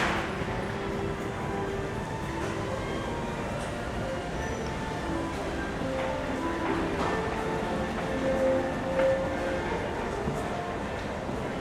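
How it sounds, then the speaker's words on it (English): Busy indoor ambience of Tokyo's Shinjuku Station: a dense, steady wash of crowd murmur, footsteps and distant rail noise, with faint tonal announcements or chimes surfacing now and then. "It's the world's busiest train station."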